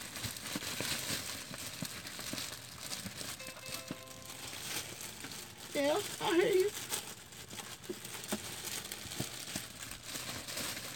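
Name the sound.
plastic bag crinkling while being tied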